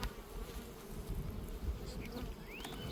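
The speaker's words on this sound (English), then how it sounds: "You may get some bees that'll start darting around you, acting upset." Upset bees dart around a beekeeper at a hive during a summer check, a dense close buzzing drone with a brief rising whine near the end as one flies past.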